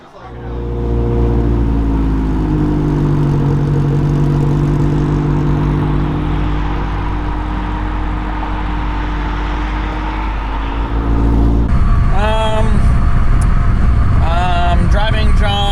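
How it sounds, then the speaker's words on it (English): A Toyota AE86 hatchback drives with a steady, loud engine drone and road roar, its check engine light flickering on; near the end the tone shifts as it revs up through gears. "Driving John's hatchback back to storage"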